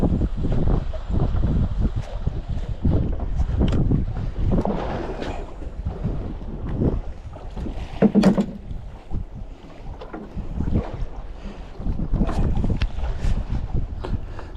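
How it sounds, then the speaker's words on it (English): Strong wind at sea buffets a fishing boat, roaring and gusting hard across the microphone with water slapping below, loud and continuous throughout. "Oh, that wind is getting nasty."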